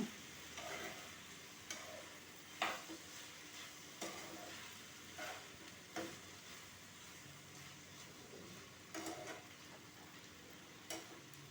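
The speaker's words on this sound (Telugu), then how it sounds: "చూసారు కదా, ఇప్పుడు ఇది బాగా వేగనిద్దాం." A spiced vegetable, dandakai with chilli powder, fries quietly in a pan, a faint steady sizzle broken by about ten soft scraping stirs spaced a second or so apart, with no talking.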